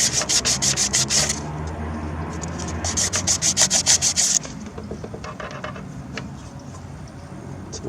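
Sandpaper rubbing back and forth against wood in a workshop beside woods, loud repeated scratchy strokes in quick bursts, then fainter irregular scraping continues alone.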